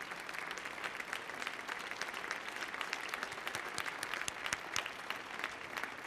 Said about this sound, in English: If you could stand, please, and let us congratulate you on a beautiful piece.